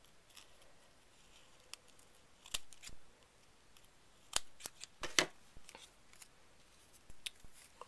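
Scissors trim stray ribbon ends on a ribbon heart craft, giving several sharp, quiet snips spread irregularly over a faint background.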